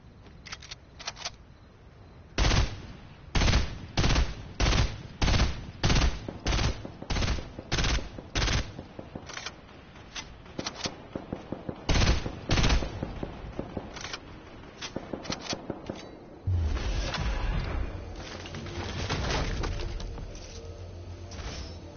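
Rapid bursts of gunfire in the video game Fortnite, loud and close, firing in repeated volleys at an irregular rhythm, with a lower rumbling blast partway through and a sustained hum near the end.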